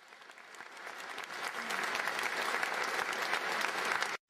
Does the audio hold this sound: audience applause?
yes